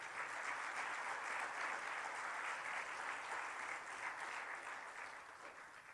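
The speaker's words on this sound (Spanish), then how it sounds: "Dele un aplauso al Señor" A church congregation at a Spanish-language evangelical service gives a loud, sustained round of applause. The dense clapping fills the whole stretch and fades slightly toward the end.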